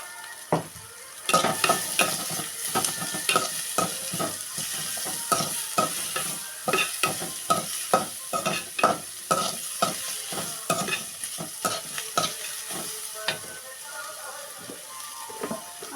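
Cashews, onion and green chilli fry in a pan for upma, a quiet sizzle punctuated by rapid, rhythmic spatula scrapes and taps, close and repeated throughout, easing off near the end.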